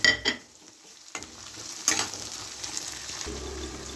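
Chopped tomatoes drop into browned onions in a pan and sizzle while a spoon stirs, with sharp scraping clatters at the start, then a low steady frying hiss with occasional knocks; no one speaks.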